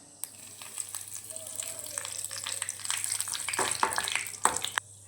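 Curry leaves dropped into hot oil in a pan, a close spitting sizzle and crackle that builds in intensity with irregular sharp pops before cutting off abruptly.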